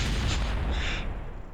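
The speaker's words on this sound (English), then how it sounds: "It's so funny, explosions in this game." An explosion in Kerbal Space Program rolls out as a loud, close, rumbling boom that fades over about a second and a half, with no talking.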